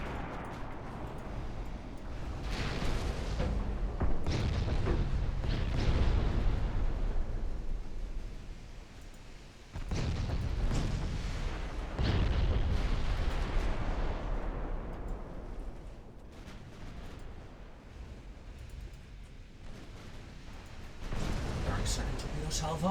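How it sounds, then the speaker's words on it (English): Heavy naval main gun fire in the video game Ultimate Admiral Dreadnoughts, with battlecruisers shelling an enemy battleship: loud repeated booming salvos and rumbling blasts through most of the stretch, with a voice talking over parts. "Battle cruisers, main guns, for the love of God, keep shooting at the enemy battleship."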